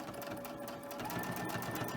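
A sewing machine runs steadily with a darning foot doing free-motion quilting stitches, a continuous close mechanical whir with a thin pitched hum throughout.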